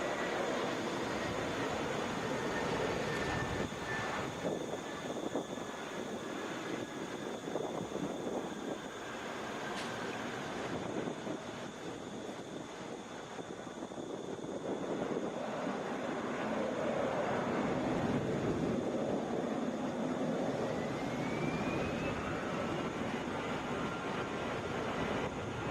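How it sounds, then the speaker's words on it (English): Alaska Airlines Boeing 737 MAX 9 jet at Atlanta airport, heard as a steady, broad roar of engine and wind noise that holds throughout, with faint whining tones drifting in the background. "This is Alaska Airlines 334 headed to Seattle. Boeing 737 MAX 9."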